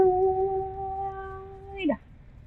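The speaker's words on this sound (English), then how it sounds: "Speak with animals, cat?" Cat meowing in Baldur's Gate 3, one long drawn-out tonal meow held steadily then bending down at the end, clear and close.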